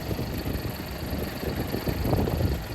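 A tractor engine gives a steady, low rumble without pause, a constant mechanical drone with a slight vibrating texture throughout.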